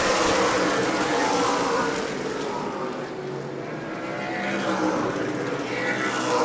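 Super Late Model race cars roaring around the New Smyrna oval in a pack of four off a turn, a continuous loud engine drone swelling and fading as they pass.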